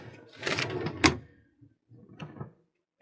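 Wooden drawers in the closet of a small travel trailer slide and knock shut, a short burst of rattling thuds with one sharp bang, followed by fainter scraping movements, close by with no talk.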